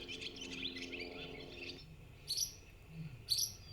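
Recorded birdsong plays back through a Norns synthesizer, faint and close, with a run of quick chirps followed by two short separate bright tweets over a low hum.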